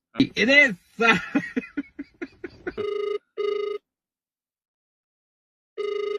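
A person talks and chuckles, then a mobile phone call rings in repeated electronic bursts with long pauses between them, going unanswered.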